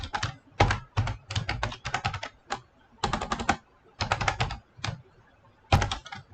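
Bursts of rapid key clicks on a computer keyboard while PHP code is typed, coming in uneven clusters separated by short pauses, close and fairly loud.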